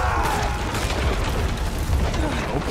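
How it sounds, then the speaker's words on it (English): A symbiote blast attack in the Spider-Man 2 video game, a dense, sustained burst of crashing, booming energy that stays loud and steady throughout, with no talk over it. "Oh, symbiote blast."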